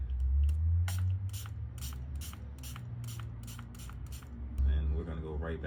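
Aerosol sealer sprayed on suede Air Jordan 4 sneakers hisses in a rapid series of short, sharp bursts close by, over a low hum, with someone talking briefly at the end.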